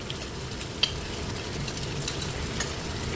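Chili powder, turmeric and crushed red chili frying in a pan for a karhi pakora curry, a steady low sizzle with faint stirring clinks and one sharp tap early on, no talk.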